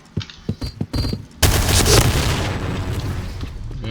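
Rapid automatic fire from the Novisky AR rifle in Point Blank, set on a battleship map: several short shots, then a loud, dense sustained burst that rolls on to the end.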